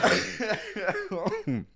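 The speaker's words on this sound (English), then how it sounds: "it triggered my cough a little bit there" Several short, harsh coughs in quick succession, close by and fairly loud, with a throaty, voiced edge.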